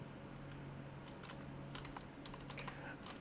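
Words being typed on a computer keyboard, a quiet, irregular patter of key clicks in short bursts over a low steady hum, with no talking.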